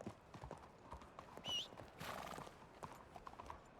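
Horse in the Red Dead-based roleplay game WildRP, faint rhythmic hoofbeats on the ground with a brief whinny partway through, at low volume.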